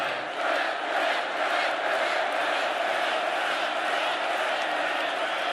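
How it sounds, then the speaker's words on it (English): A political rally crowd in Pennsylvania cheers and shouts continuously, a dense roar of many voices that fills the space and swells slightly at moments. "This is a feisty little crowd, isn't it?"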